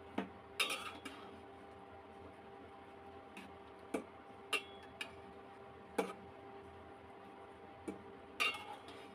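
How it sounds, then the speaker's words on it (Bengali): A spoon stirs okra with turmeric, red chili powder, cumin and salt in a cooking pot, giving scattered sharp metallic clinks and taps against the pot over a quiet background. "এই তো ভালোভাবে নেড়ে চেড়ে দিয়ে মশলার সাথে মিশিয়ে দিচ্ছি ভেন্ডিটাকে"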